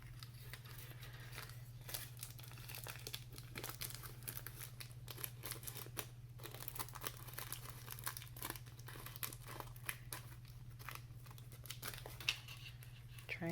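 Cellophane and contact paper crinkle and crackle steadily while a craft wing is trimmed, a close, continuous rustle with faint snipping, over a low steady hum.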